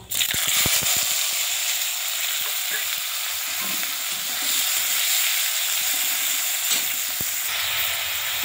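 Chopped onion and tomato sizzle and crackle steadily in a hot pan, a loud continuous frying hiss with occasional spoon stirs.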